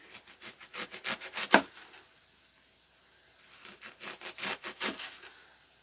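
A kitchen knife slices vegetables into rings for quick pickles, giving two runs of crisp, rhythmic cutting strokes on a board with one sharper chop, separated by a brief quiet pause.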